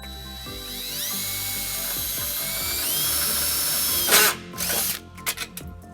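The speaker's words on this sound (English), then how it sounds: "we'll tighten it up using a 3/8 socket" Ratchet wrench with a 3/8 socket tightening a nut on a trailer wiring bracket under a 2011 Nissan Xterra, a steady whirring motorised spin that ends in a few sharp clicks and clatters.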